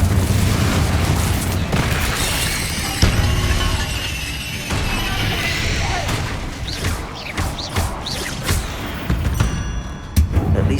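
Confringo spell blasts in the Hogwarts Legacy video game, a series of booming explosions with crashing debris over a rumbling background, loud and close, with voices calling out between the blasts.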